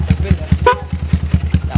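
Honda GL100 motorcycle engine idling indoors with an aftermarket Ernen exhaust, a steady low rhythmic putter of evenly spaced pulses, close and fairly loud.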